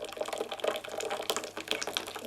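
Coffee poured by hand at an Ethiopian home, a continuous splashing, trickling stream of liquid into a cup, close and fairly soft, with no talking.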